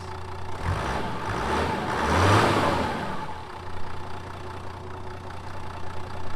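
A Toyota Land Cruiser 80 series HDJ80 diesel engine runs steadily with a low rumbling idle after a fuel filter change, swelling briefly into a rev before settling back to an even idle.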